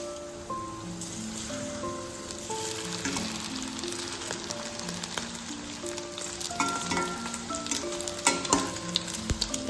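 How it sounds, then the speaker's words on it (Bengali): Batter-coated egg cubes deep-frying in hot oil in a wok produce a steady, crackling sizzle throughout, with background music playing alongside. "এবার কড়াইয়ে তেল দিয়ে একে একে ওগুলো দিয়ে ভেজে তুলে নেব।"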